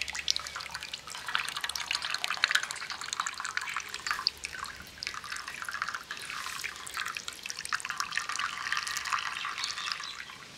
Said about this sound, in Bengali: এবার কাপড়টাকে এইভাবে ধরে ছানা থেকে জলটাকে আলাদা করে নেব।